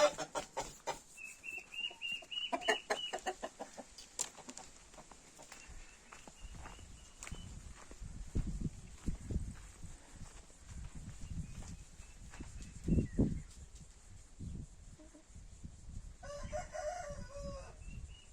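Chickens cluck and a rooster crows in a farmyard, with low rumbling handling noise and scattered clatter throughout.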